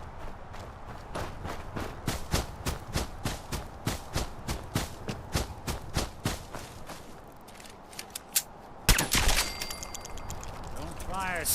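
Rapid bursts of gunfire from the Fallout 4 Far Harbor video game ring out in a steady rhythm of sharp shots, followed by a louder cluster of blasts near the end.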